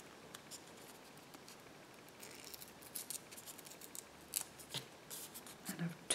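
Paper for an everyday journal page is torn by hand, giving quiet, crisp crackling rips in short irregular bursts, heard close up with no talking.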